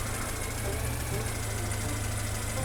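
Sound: vehicle engine idling while parking, Farming Simulator 22 video game

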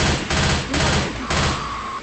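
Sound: gunfire in a video game

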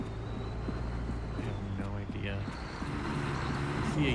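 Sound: truck engine in the video game Fractured Lands

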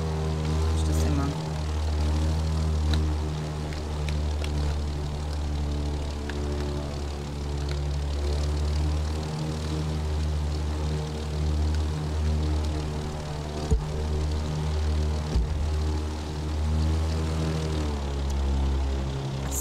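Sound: airplane engine in video game The Crew 2

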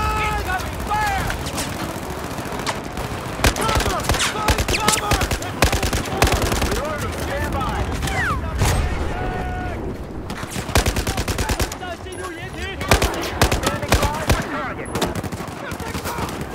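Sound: gunfire in the video game Battlefield 4

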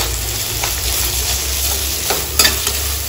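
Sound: tomato with salt frying in pan

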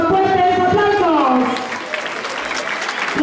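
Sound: applause for a school mayor's swearing-in

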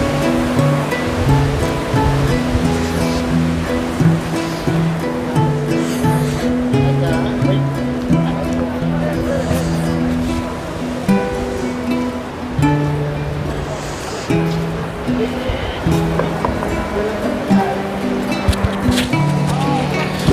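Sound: fast-flowing Ganges river water at Har Ki Pauri

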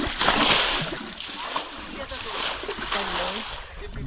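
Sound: bailing water out of a pond to catch fish

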